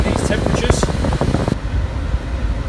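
The climate control fan of a Peugeot 208 GTI blows a steady, loud rush of air that audibly shifts partway through, its hiss becoming duller and softer as the automatic system changes the fan speed.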